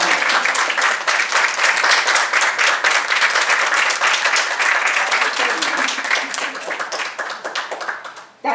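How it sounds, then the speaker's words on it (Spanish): A standing crowd applauds a master's-degree event coordinator at a formal ceremony, with dense, sustained clapping that stays loud and even for several seconds before tapering off at the end. "Nuestro aplauso, por favor, de pie a la magíster Sonia Venegas Paz"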